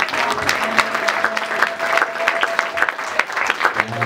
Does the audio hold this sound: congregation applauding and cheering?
yes